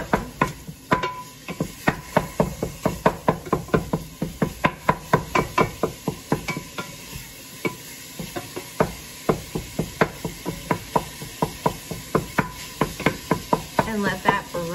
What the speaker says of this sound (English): I'm gonna cut an onion with you, or a pepper, my little baby pepper